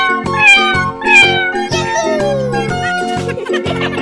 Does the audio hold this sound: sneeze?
no